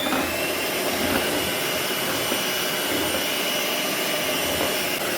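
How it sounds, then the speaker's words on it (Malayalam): An electric mixer beats egg whites and sugar to stiff peaks for a pavlova, a loud steady whirring drone that runs unbroken from start to end with no talk. "ഇത് നല്ല സ്റ്റിഫ് ആവുന്നവരെ നന്നായിട്ട് നമുക്ക് ബീറ്റ് ചെയ്ത് കൊടുക്കാം"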